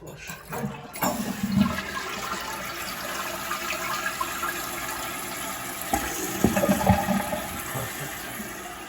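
A Kohler toilet with a freshly cleaned tank, repaired after running constantly, flushes with a loud rushing gurgle of water, followed by a steady hiss of the tank refilling.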